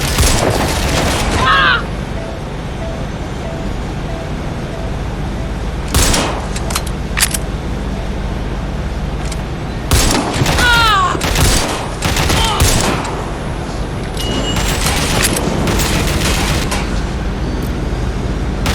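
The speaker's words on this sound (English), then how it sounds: "Shots fired!" Gunfire in the action game Watch Dogs Legion: loud bursts of automatic shots and booming blasts come in several clusters over a continuous background din, with brief spoken lines mixed in.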